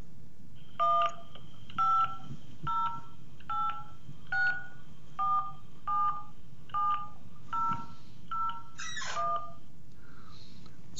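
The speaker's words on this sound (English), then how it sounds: "Here is a recording of me dialing a number." A touch-tone telephone dials a number, producing about a dozen short, evenly spaced DTMF beeps in a steady rhythm, clear and fairly loud over a faint background hum.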